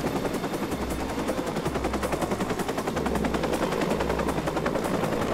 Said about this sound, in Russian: Так, хренова вертушка.